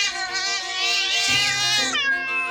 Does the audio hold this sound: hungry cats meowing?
yes